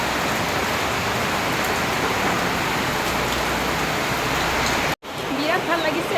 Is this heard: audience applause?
no